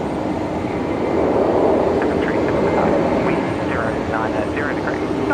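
A Qantas airliner starts its takeoff roll at Brisbane Airport, producing a steady, loud engine roar that holds throughout, with faint whining tones rising above it and a voice talking over it.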